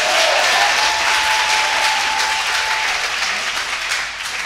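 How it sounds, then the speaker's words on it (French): A church congregation applauds together at a Sunday service, with dense, steady clapping that holds loud throughout and tails off slightly at the end. "Maintenant, on peut applaudir ceux qui ont semé la joie ce matin."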